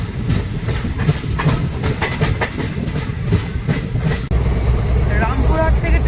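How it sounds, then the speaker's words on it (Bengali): Sahid Express passenger train running at speed on rails from Rampurhat toward Howrah, a continuous loud rumble with rhythmic clickety-clack of wheels heard from inside a crowded carriage, with faint voices in the background. "ট্রেন ভালো স্পিডেই চলছে"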